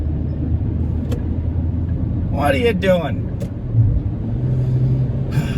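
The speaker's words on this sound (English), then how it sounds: "what is this truck doing?" Truck passing on the road nearby, a low engine rumble that swells and fades under someone speaking in a car.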